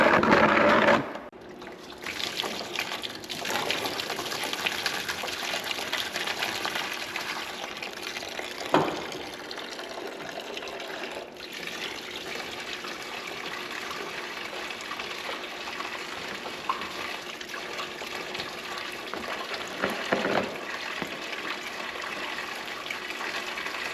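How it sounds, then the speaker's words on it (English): Coolant drains from an old Chevette radiator into a pan, a continuous gushing trickle of liquid with a few sharp clanks, steady and close with no voices. "Let the coolant drip all over me, and get a pan and drain this out."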